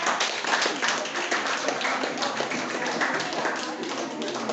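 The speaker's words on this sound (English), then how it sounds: "Clap." Many hands clap together in a steady patter in a classroom, fairly close, with voices mixed in underneath.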